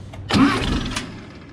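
An old John Deere B tractor engine, choked on a cool morning, starts with a brief cranking catch and a short low roar that quickly settles, heard close.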